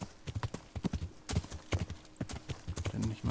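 Horse hooves clip-clop at a steady gallop in the medieval video game Kingdom Come: Deliverance as the horse crosses open wilderness, loud and close with a faint background hum.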